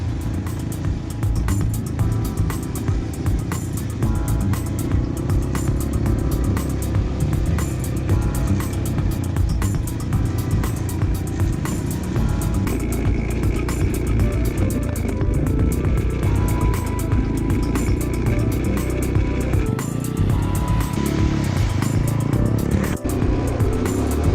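An ATV engine runs continuously while driving, a steady loud motor drone with slight rises and dips in pitch throughout, no voices over it.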